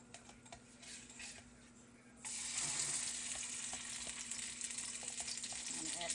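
Butter dropped into olive oil in a hot pan sets off a sudden loud, steady sizzle and hiss after a quieter stretch, with light clinks of a utensil close by.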